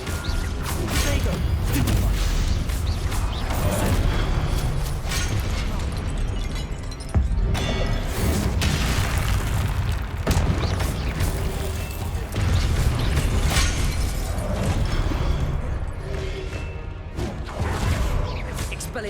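Confringo explosive spells cast in a Hogwarts Legacy duel, loud crashes, whooshes and booms stacked in a dense, chaotic battle mix with voices calling out throughout.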